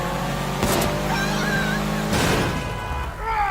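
A car approaching from behind in the video game Sleeping Dogs, its engine droning steadily with rising and falling whines, interrupted by loud impact bursts, all heard without speech.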